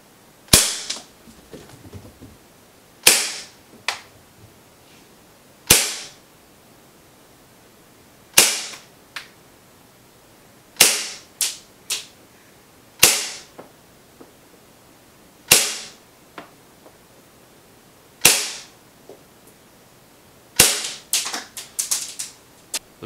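A KWA MP7A1 gas airsoft submachine gun fires 0.2 gram rounds in single sharp cracks, about ten evenly spaced shots over twenty seconds, loud and near, ending with a quicker cluster of shots.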